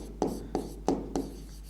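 A pen scratches notes on paper during a biology lecture, making four short, quiet strokes spaced about a third of a second apart, close up and faint.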